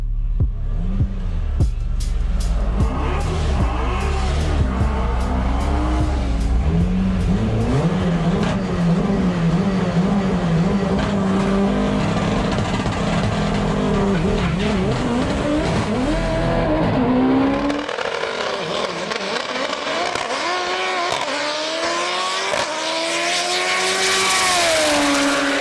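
A loud Mitsubishi Evo X drag racing car roars down the track at full throttle, reaching 180 mph, the engine note climbing and shifting continuously before a second high-pitched engine surge takes over.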